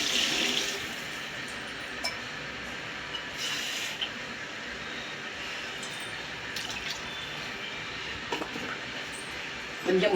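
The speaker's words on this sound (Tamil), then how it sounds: "3 டம்ளர் தண்ணி." Water pours steadily into a cooking pan while semiya kichadi is being made, a continuous broadband splashing and trickling that runs nearly the whole time at moderate level, with a few brief clinks along the way.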